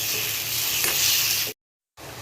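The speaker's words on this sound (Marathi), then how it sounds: "थोडीशी आपण परतून घेऊया अंडी." Eggs sautéing in a masala in a pan give a steady close sizzle with light stirring for about a second and a half, then a brief silence before the frying resumes.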